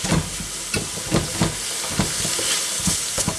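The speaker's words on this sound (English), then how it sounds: "frying these until these start to soften now" Vegetables for cauliflower tikka masala frying in a smoking pan, a steady broadband sizzle punctuated by repeated stirring scrapes and clatters.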